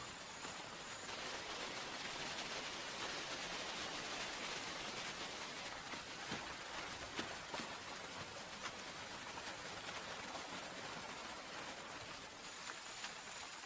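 Heavy rain pours steadily over the Brazilian cerrado, a dense, even hiss of countless drops that holds constant without a break and with no voices.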